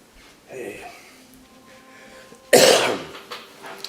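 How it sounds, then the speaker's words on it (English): A man's sharp, loud cough bursts out near the middle, preceded by a quieter throaty grunt and faint indoor room sounds, with small noises trailing after. "starts his video off with a cough and a grunt"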